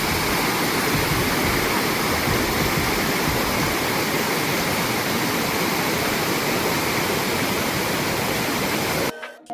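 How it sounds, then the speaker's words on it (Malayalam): A large waterfall near a tea estate roars as a dense, steady rush of falling water, loud and close, unbroken until a sudden stop at the very end. "ഒരു വലിയ വെള്ളച്ചാട്ടം കാണാം"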